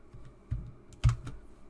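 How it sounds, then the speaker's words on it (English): Ctrl, Alt and Delete are pressed together on a computer keyboard, giving two distinct, quiet key clicks about half a second apart with no voices. "We're gonna press control or delete on your keyboard."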